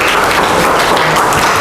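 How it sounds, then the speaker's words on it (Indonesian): Students in a classroom clap together in a short, loud, dense burst of applause that holds steady throughout, with no speech over it. "Tepuk tangan."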